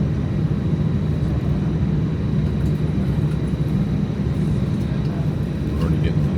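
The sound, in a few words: small airplane taking off from a runway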